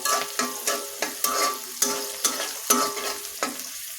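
Onions fry in hot oil until reddish brown, with a constant sizzle broken by sharp, rhythmic spatula scrapes against the pan, loud and close.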